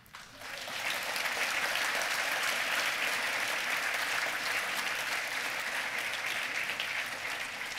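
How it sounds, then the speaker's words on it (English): An audience at a student festival speech on maternal health breaks into a swelling wave of applause that holds steady and loud before easing slightly at the end. "Thank you for applauding that idea."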